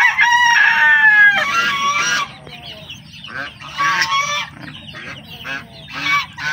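Chickens and chicks on a game fowl farm call loudly and nearby: squawking, crowing-like cries and clucks come in repeated bursts over a low background hum.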